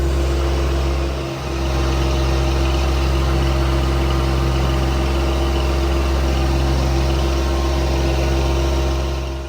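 A John Deere 25 hp compact tractor with hydrostatic drive runs at a steady idle close by, a continuous low droning hum with even engine tone throughout and one brief dip near the start.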